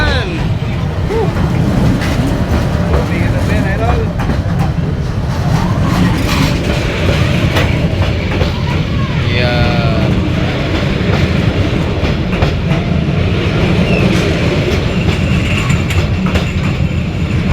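A train rolls along the rails with a loud, continuous rumble and rattling clatter, brief squeals and creaks rising over it, while voices talk now and then beneath the noise.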